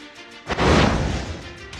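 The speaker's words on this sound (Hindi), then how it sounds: "इसको विस्फोट करके इस मकान को उड़ाया गया है" A house is blown apart by an explosive blast, heard as a sudden loud, broad roar that swells abruptly and then rumbles on steadily before fading slightly.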